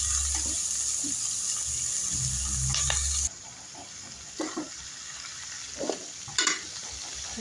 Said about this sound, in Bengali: পেঁয়াজের কলিগুলো আমি ভালোভাবে মিশিয়ে নিচ্ছি